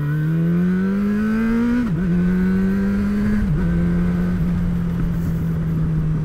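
A motorcycle accelerates hard with clutchless quickshifter upshifts, its loud engine note climbing steadily and then dipping briefly at each of two gear changes before climbing again, heard up close without talk.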